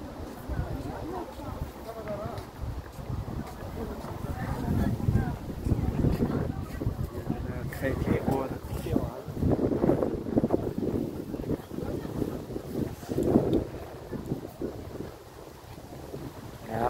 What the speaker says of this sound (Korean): 은행나무 바람 부는데 막 날아가는 거 봐줘.